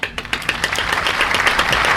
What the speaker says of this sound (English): I am clapping